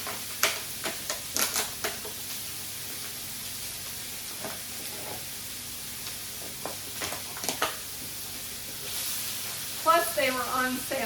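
Pre-diced green pepper and onion dropping into a hot pan for a King Ranch chicken casserole, giving a soft sizzle with scattered clicks and stirring taps, fairly faint and under occasional talk.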